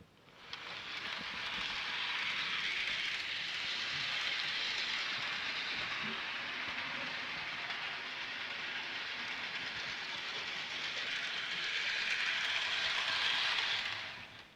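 A BLI J Class model train locomotive running forward makes a steady, close hiss with faint rail clatter that holds evenly for about fourteen seconds, with no talking.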